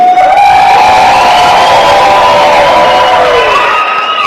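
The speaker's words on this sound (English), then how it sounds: "I want to hear a cheer for this man's team." A large crowd at a startup games event cheers loudly for a team, a dense roar of shouts and whoops that holds steady close up for several seconds.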